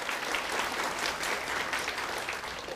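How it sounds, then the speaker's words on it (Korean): A church congregation gives a round of applause of thanks to God, with dense, sustained clapping that stays full and even across the clip. "우리 하나님께 감사의 박수를 드리겠습니다."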